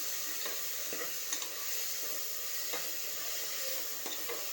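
Onions sautéing together in a pan in a home kitchen, with salt and a little turmeric added: a steady soft sizzle and hiss, with occasional light scrapes of stirring, no voices.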